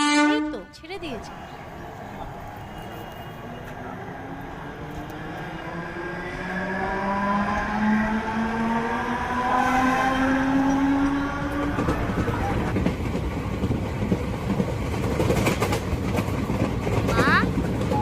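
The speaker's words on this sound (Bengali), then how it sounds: "ট্রেন কখন ছাড়বে? এই তো ছেড়ে দিয়েছে।" A departing train builds up from rumbling wagons into a loud, sustained roar, with rising tonal whines from the engine and a horn-like blast near the start, close by, while people talk nearby.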